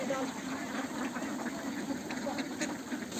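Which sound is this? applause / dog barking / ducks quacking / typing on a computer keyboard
ducks quacking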